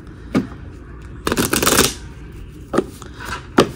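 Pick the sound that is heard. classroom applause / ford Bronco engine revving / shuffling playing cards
shuffling playing cards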